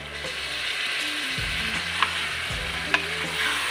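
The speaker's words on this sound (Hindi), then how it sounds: "अब हम इसमें गोश्त ऐड कर लेंगे।" Mutton is added to softened tomatoes in a pan, sizzling and frying close up while a spoon stirs and scrapes, with a couple of sharp clinks against the pan; no one speaks.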